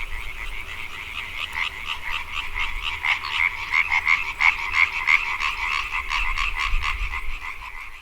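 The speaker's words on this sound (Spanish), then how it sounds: "Y esa noche allí estaban esas ranas, croando, estaban los grillos, el río, todo tranqui." European tree frogs croak at night in a rapid, pulsing chorus of rattling calls that repeat steadily and swell in loudness, with a faint low rumble beneath.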